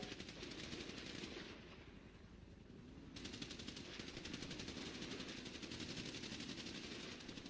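Rapid automatic gunfire from a city roleplay shooter game crackles in dense, continuous volleys, with one brief lull before the firing resumes, steady and without talk.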